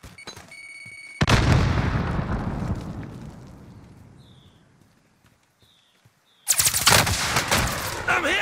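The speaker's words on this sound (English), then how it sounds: "Under hostile fire. Grenades flying." Dense gunfire and grenade blasts in Call of Duty: Modern Warfare, a loud crackling barrage that fades to quiet and then bursts back in hard, with brief bright chirps in the lull.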